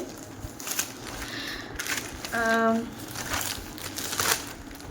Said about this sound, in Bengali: সেটা এই যে প্যাকেটটা খুলছি